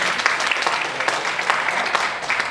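An audience claps to welcome a speaker onto the stage at an education entrepreneurship forum; dense, steady applause throughout, fairly loud and close.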